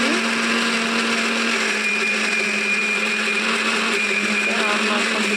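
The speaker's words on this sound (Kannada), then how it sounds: "ಮಿಕ್ಸರ್ ಆನ್ ಮಾಡಿಬಿಟ್ಟು" Electric mixer grinder running on cowpea batter, a loud, continuous motor whine with a steady hum and a slight shifting tone as the batter churns, heard alone and close.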